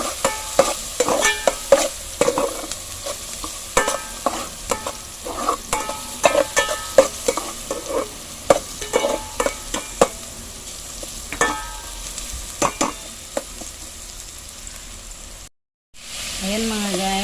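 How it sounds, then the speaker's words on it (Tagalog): Chicken kinamatisan ingredients sautéing in a pan, a steady loud sizzle broken by repeated scraping stir strokes, with a brief cutout near the end before the frying resumes. "Pagisa natin ang sangkap."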